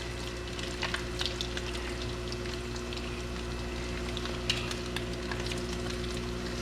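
Crab cakes made from blue crab fry in a generous amount of hot oil, giving a steady, close crackling sizzle with scattered pops and spits throughout.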